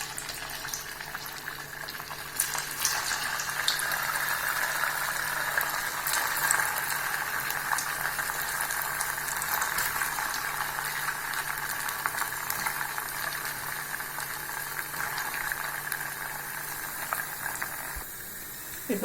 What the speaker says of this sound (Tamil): இப்போ நம்ம அதை எண்ணெயில் போட்டுடலாம்.